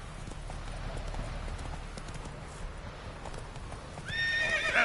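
Roach the horse in The Witcher 3: Wild Hunt gallops with steady rhythmic hoofbeats over a low wash of ambience, then a loud, close whinny rises at the end.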